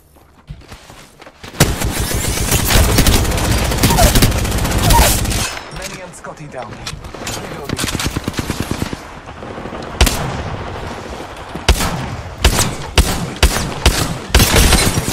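Rapid bursts of automatic gunfire from an Apex Legends firefight, loud and close, with sustained volleys and sharp single cracks scattered through, a voice briefly heard amid the shooting.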